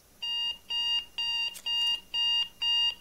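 An alarm in the video game Undone: Project Nightmare gives six loud, evenly spaced electronic beeps in a steady rhythm, heard on its own.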